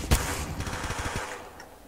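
Gunfire in the Roblox game Arsenal: a sharp opening shot followed by a rapid burst of repeated shots that fades out.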